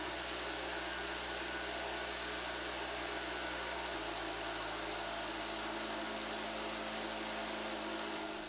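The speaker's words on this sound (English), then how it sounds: "hard compound is filled in the formwork and compacted with the aid of a vibrator" A concrete vibrator compacts abrasion-resistant hard compound packed into formwork, giving a loud, continuous motor hum that shifts slightly in pitch partway through and runs unbroken throughout.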